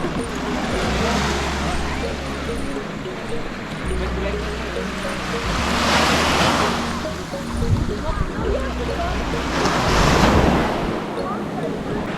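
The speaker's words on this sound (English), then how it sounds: "This is Silver Beach." Surf washing onto Silver Beach in Thailand among rock formations, a broad continuous roar with two louder swells rising and falling, plus a low engine-like rumble in the background and no talk.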